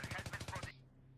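M4A1 rifle fired in Battlefield 3 game: a tight automatic burst of about nine rapid, punchy shots over well under a second, then an abrupt stop into a faint fading tail.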